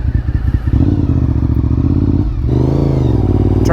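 A rare sport motorcycle being ridden, its engine droning loud and steady close by, with a brief rise and fall in pitch as it accelerates.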